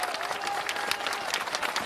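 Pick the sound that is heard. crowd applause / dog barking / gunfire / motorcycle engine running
crowd applause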